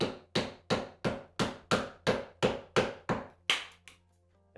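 A hammer strikes wood about ten times in an even rhythm, each blow a sharp, close thunk, ending with one final hit and a brief silence.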